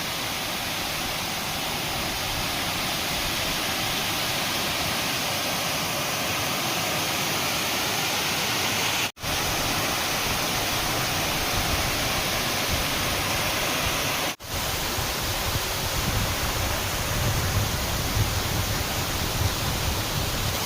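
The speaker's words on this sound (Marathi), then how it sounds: "त्यामुळे हा ओव्हरफ्लो आणि पाण्याचा एकदम फ्लो जरा चांगला आहे" Dam water overflowing at Khem Dam after rain roars in a dense, continuous rush. It stays loud and close for the whole stretch with no voices over it, apart from two very brief dropouts.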